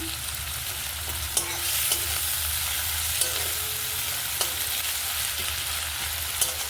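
Constant crackling sizzle of chopped onions frying in oil with a little salt, with light periodic taps and scrapes of a spoon stirring the pan.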